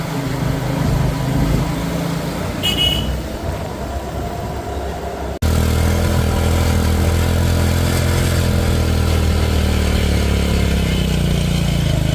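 A motorcycle engine drones and labours steadily at close range climbing Parasnath Hill in Jharkhand, its rumble rising and falling with wind noise over the microphone.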